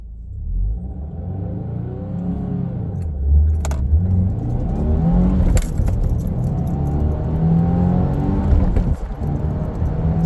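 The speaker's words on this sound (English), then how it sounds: "We're gonna rev it up to 4K" A stock-to-tuned 2023 Subaru WRX revs up to about 4000 rpm, then launches hard. The engine note swells and climbs through the gears in a close, loud rush, with some rattling and a brief sharp clatter along the way.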